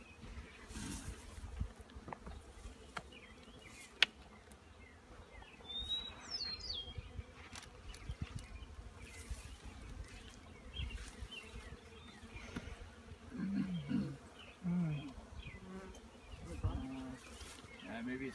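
Honey bees buzz steadily around a hive at bee camp, a dense close drone with scattered louder passes, while people talk over it now and then.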